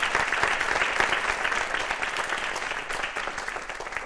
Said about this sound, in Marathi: मग त्यांच्यासाठी एकदा जोरदार टाळ्या वाजवूया आणि त्यांचं स्वागत करूया.